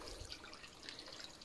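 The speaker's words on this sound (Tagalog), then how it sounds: "Normal kini ato ang pagpaagi sa tubig" Water from a natural mountain spring trickles and drips steadily, a faint, continuous wet patter with no voices.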